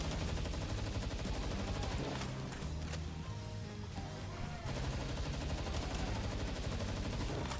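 Dense, rapid gunfire from a Palworld tower boss fight keeps firing almost without a break, loud and close, with a short thinner stretch in the middle before the shots pick back up.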